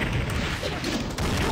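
Gunfire in a Doom WAD video game, a dense run of booming shots and blasts close together under continuous game noise.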